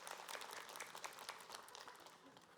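A crowd applauds on a TV show set with brisk, dense clapping that holds steady for a couple of seconds before tapering slightly, heard from a short distance.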